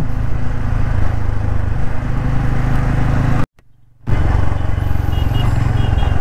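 Motorcycle cruising along an empty road, a loud steady engine drone with wind rush close up, briefly dropping out before the same running engine returns.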